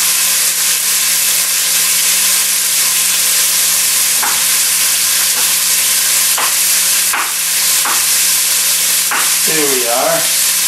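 Black bear meat osso-buco fries in a pan with a loud, steady sizzle and hiss throughout, broken by occasional utensil clicks and stirring.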